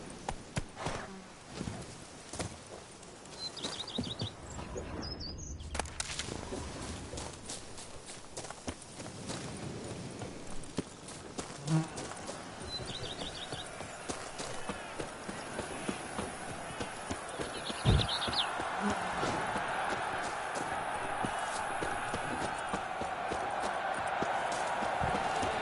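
A horse's hooves in the Witcher 3 Blood and Wine video game, a continuous galloping clatter under game music and ambience, with a few short gaps.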